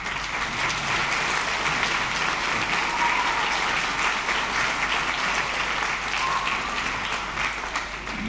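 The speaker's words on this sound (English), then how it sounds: "please give the advanced orchestra another round of applause" Sustained audience applause fills a school spring concert hall after the advanced middle school orchestra's performance, steady and dense throughout without a break.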